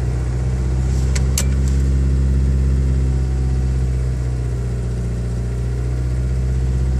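A 1989 Geo Tracker engine idles after a cold start with a steady, low, droning hum throughout, nearby and fairly loud, with a couple of brief clicks early on.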